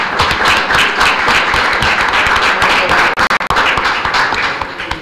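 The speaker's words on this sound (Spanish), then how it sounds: "por lo cual recibimos con un cálido aplauso a Miguel Lepe Bravo." Warm audience applause at a book presentation in the Mexican Senate, dense, steady clapping filling the room for five seconds with a couple of brief dips.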